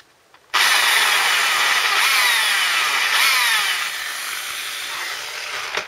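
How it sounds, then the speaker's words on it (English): A power drill whines loudly and continuously as it bores through sheet metal, starting abruptly after a brief quiet moment and holding steady, slightly easing toward the end. "Just got a glove on just in case the drill grabs hold of it"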